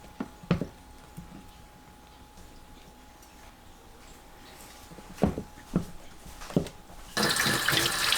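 Tap water runs into a sink as salted zucchini is rinsed, a faint steady trickle with scattered knocks and clinks, swelling to a louder gush of running water near the end.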